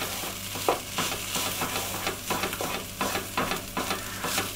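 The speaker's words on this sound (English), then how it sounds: "Let's give them a little stir." Potatoes frying and steaming in a pan for a cauliflower cheese rosti topping are stirred, giving a steady soft sizzle broken by a run of scraping, clattering stirs.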